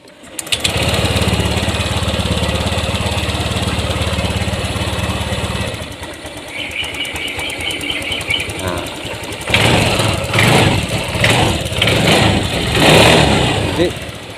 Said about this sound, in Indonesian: Sekarang saya hidupkan motornya, kita starter.